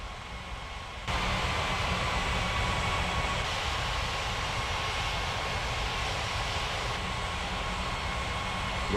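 An airliner taking off in an air traffic control video game, a broad steady engine roar that kicks in abruptly after a moment of quiet and holds loud and even, with no talk.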